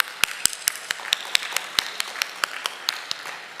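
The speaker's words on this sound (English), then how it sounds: "So let's give them both a round of applause." Sparse applause from a luncheon audience: a few hands clapping in an irregular patter of distinct, fairly close claps, with no talk over it.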